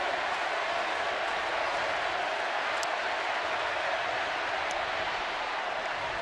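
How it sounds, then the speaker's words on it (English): A ballpark crowd at a baseball game cheers in a steady, broad roar that holds at one level throughout, with a faint whistle or two over the top. "Freddie Sanchez, and again they start to cheer"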